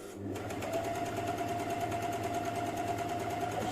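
An overlock sewing machine stitching fabric, starting up and then running at a fast, even whirring hum with a rapid mechanical rattle, close and steady with no speech.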